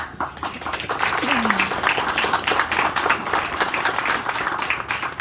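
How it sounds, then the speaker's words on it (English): An audience at a book promotion event in Aruba claps together, dense and fairly loud applause sustained throughout with a brief voice sound faintly mixed in early on. "please give yourselves a round of applause"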